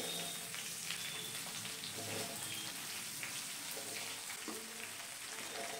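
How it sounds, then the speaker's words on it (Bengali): Nigella seeds tempering in hot oil, with strips cut from five potatoes and five aubergines, fry in a pan. A steady, fairly loud hiss and crackle runs unbroken throughout, with no voices. "তেলটা ভালোভাবে গরম হয়ে এলে হাফ টিস্পুন কালো জিরে ফোড়ন দিয়ে দিলাম"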